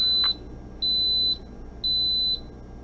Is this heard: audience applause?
no